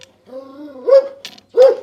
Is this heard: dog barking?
yes